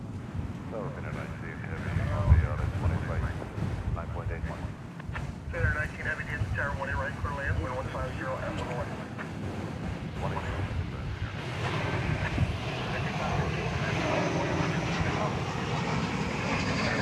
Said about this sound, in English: Flight 515, a 737-800, 9 years old, going to Cancun